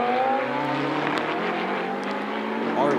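GT racing cars on the Spa circuit in Belgium, engines droning and shifting pitch as they pass, with a commentator talking over the steady motor roar.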